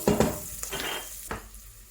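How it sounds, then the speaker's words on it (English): Short bursts of sizzling and stirring as food fries in a pan before tomatoes go into a roasted tomato soup, with a few clinks of utensil on pan, close and moderately loud. "we fry until golden"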